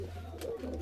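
Pigeons coo softly at close range, a brief low murmuring call with faint rustling nearby and a voice in the background.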